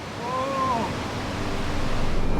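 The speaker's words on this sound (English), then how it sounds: "flying along this waterfall is pure magic" A waterfall in Norway, a steady broad rushing roar throughout, loud and continuous with a faint whistling tone early on.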